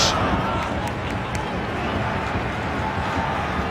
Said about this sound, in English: Applause for the ball in from the veteran Swede